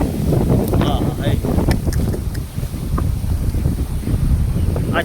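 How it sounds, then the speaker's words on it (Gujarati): Strong storm wind gusts across Jamnagar district in Gujarat, roaring steadily and buffeting the microphone for several seconds, with brief faint talk beneath. "અત્યારે આખા વિસ્તારમાં જામનગર જિલ્લાના બધા વિસ્તારમાં બધે પવન ફૂંકાય"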